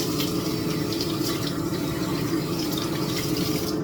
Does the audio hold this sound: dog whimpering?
no